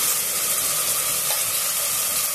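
Ground masala paste frying in oil with partly cooked onions for an aloo-peas curry, giving a steady, close sizzle and hiss that runs evenly throughout with no talking.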